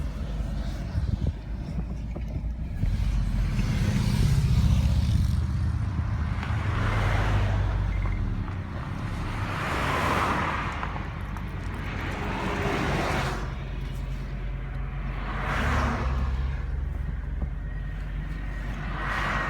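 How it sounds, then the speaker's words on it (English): A smooth-riding car cruises along a road near San Antonio, heard from inside as a steady broadband rumble of tyres and wind with gentle surges, continuous for the whole stretch with no voices. "This car is so smooth."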